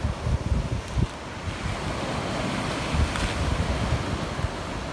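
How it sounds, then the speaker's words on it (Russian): Stormy sea waves breaking on the shore at Gagra on a warm sunny day, a continuous surf roar with rhythmic crashing surges and gusty wind buffeting the microphone, close and loud, with no voices. "море штормит, но оно все так же теплое"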